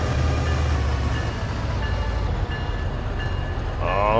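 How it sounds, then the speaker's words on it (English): A steady, loud rumbling drone of a model train locomotive running nearby, with a low mechanical hum and faint rattling, and a voice speaking briefly at the end. "I move the locomotive forward."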